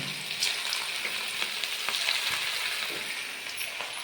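Cauliflower (gobi) fries in hot oil with a dense, continuous crackling sizzle, steady and close, with faint bubbling pops throughout.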